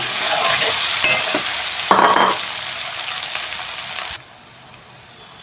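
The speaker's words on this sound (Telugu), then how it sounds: "ఆలు మస్తు ఫ్రై అయింది" Boiled potato pieces fry in a pan for sabudana khichdi, giving a loud, close, steady sizzle with a few stirring scrapes before the sound cuts off abruptly to near silence.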